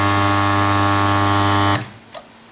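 A spot welder on 0.6 mm stainless steel sheet gives a steady loud electrical buzz for nearly two seconds, then cuts off abruptly, leaving a faint click and near silence.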